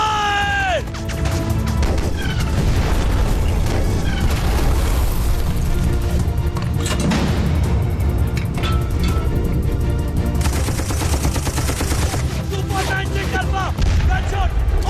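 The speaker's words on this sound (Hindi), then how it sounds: "दुश्मन का टैंक फायर!" Tank cannon fire and explosions in a 1965 Pakistan–India war battle scene, loud continuous rumbling booms and crashes throughout, with shouted voices over the din.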